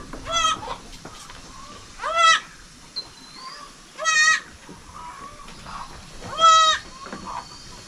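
A pregnant goat close to giving birth bleats on a farm, four wavering, nasal cries spaced a couple of seconds apart, loud and nearby over a faint background.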